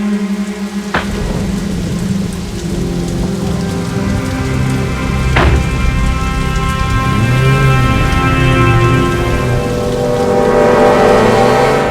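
Steady Mumbai rain pours down across the whole stretch, with a couple of sharp cracks and low rumbles of thunder rolling beneath it.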